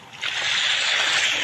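In the Free Fire video game, a character plunges into water with a sudden splash that swells into a sustained, close, hissing slosh of water lasting over a second.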